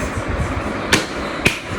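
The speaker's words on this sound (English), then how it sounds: "we are using this screwdriver box to ham it up" Two sharp, close knocks about half a second apart as a screwdriver box is used as a makeshift hammer in a newly rented flat in Hyderabad, over a steady background hum.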